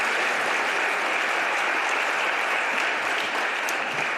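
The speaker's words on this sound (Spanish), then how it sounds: "Le damos, por favor, otro aplauso." A large audience applauds the president of the Congress at a ceremony in the Congreso de los Diputados, a steady, dense wash of clapping that stays loud and even throughout.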